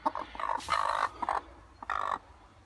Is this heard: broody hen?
yes